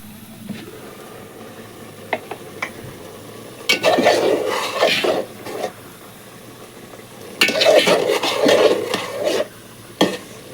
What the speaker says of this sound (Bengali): নাড়াচাড়া কিছুক্ষণ সময় আমি কষিয়ে নেব